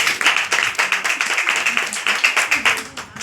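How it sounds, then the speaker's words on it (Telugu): An audience clapping at a birthday prayer meeting in a house, with dense, fast, steady applause from many hands, fairly close and continuing throughout. "తల్లు అన్న వాళ్ళు చప్పట్లు కొడతారేమో అనుకుంటున్నాను"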